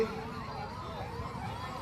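An ambulance siren wails through a farmers' protest gathering, a faint, distant, rising-and-falling tone that repeats steadily under low crowd noise.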